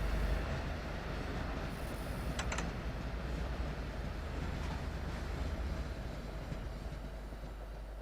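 An Amtrak train rolls by in a Train Sim World 2 rush-hour route around Dresden and Boston, a steady broad rumble of wheels on rail holding for the whole stretch, with a brief squeal of wheels partway through and no voices.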